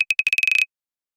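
A processed synthesizer clave effect fires a short burst of bright, pitched clicks that speed up into a tight rattle before cutting off, close and isolated.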